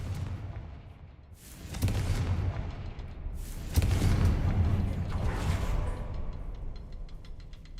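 Fiery spell blasts from Hogwarts Legacy boom out in two heavy, rumbling bursts that roll and decay, followed by faint ticking debris.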